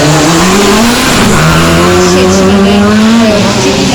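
A rally car driving up during a race in Korczyna, its engine note rising and shifting with revving, tyre noise and a crowd ambience, loud and close throughout.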